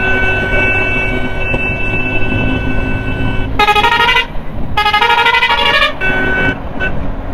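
A vehicle horn sounds before a drag race between a Splendor motorcycle and a truck, with two loud sustained blasts against steady roadside engine noise.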